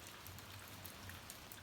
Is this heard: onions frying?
no